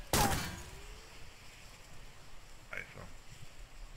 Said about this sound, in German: Der hat gerade wieder auf mich geschossen hier.